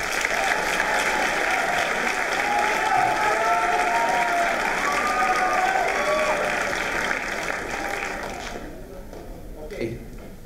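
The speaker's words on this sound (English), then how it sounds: "Let's get another round of applause for them." Audience applause after student readings at a high school writers' week event, sustained loud clapping with voices mixed in, fading out near the end.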